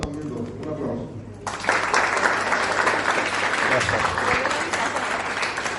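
An audience bursts into applause for a journalist after a man's spoken introduction, the clapping starting abruptly and continuing as a full, sustained patter.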